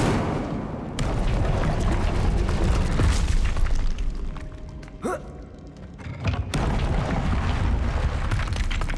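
A roaring whoosh of the Incendio fire spell bursts in the Hogwarts Legacy video game, with booming, crackling flare-ups and brief pops in a loud, sustained sequence that dips midway before surging again.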